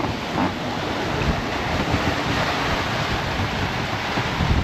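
Wind gusts roar across a sailboat in mid-Atlantic, with waves and surf washing continuously nearby in a loud, broadband rush and the steady buffeting of wind on the microphone.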